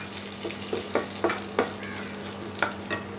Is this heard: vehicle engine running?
no